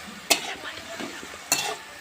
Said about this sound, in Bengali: তারপরে আমি ভালোভাবে নেড়ে নেব।